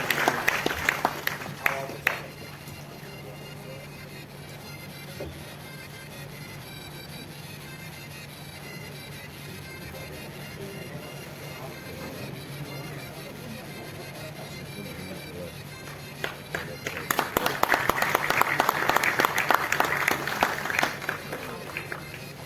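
Audience applause at a state-level journalist award ceremony, a short burst at the start, a long stretch of steady background hum, then clapping swelling up again near the end.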